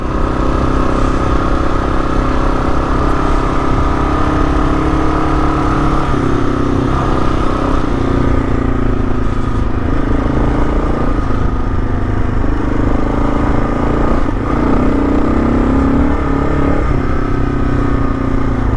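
A Kawasaki KLR motorcycle with a Cogent rear shock riding through sand, its engine droning loud and close throughout with slight shifts in pitch as the throttle changes.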